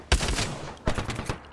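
Two sharp bursts of gunfire in Apex Legends, each a loud close crack trailing into a short rattling volley.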